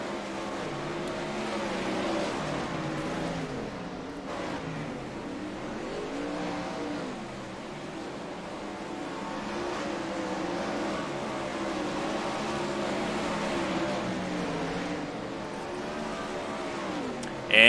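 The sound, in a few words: race cars driving in the video game iRacing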